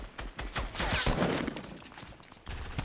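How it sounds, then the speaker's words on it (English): Gunfire in OG Fortnite, close bursts of rapid shots and cracks coming in quick volleys, loud and dense with a short lull before another burst. "I'm already getting shot at from like every angle"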